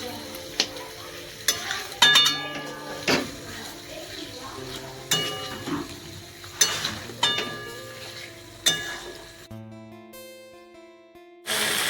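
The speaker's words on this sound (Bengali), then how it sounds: "এরপর ভালোভাবে কষিয়ে নেব। যতক্ষণ না মশলা থেকে তেল ছেড়ে আসছে ততক্ষণ পর্যন্ত কষিয়ে নিতে হবে।" Chicken and spice masala are stirred and fried in a pan, cooked without yogurt or tomato. A soft sizzle runs throughout, broken by sharp metallic scrapes and clinks of the utensil against the pan at irregular intervals.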